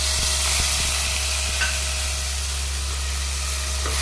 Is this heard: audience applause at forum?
no